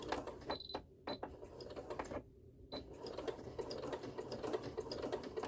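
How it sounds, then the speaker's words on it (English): Sewing machine stitching an oven mitt, rapid mechanical chattering in bursts with brief pauses between runs, close and moderately quiet, no voices. "Let the machine do its thing. And then I'm going to back stitch."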